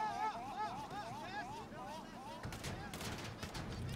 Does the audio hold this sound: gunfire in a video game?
yes